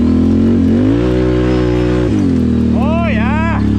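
A 4x4 vehicle engine at full throttle in low range with no load, a loud, steady high-pitched drone that climbs, holds and dips in pitch, with a brief warbling whine rising over it near the end.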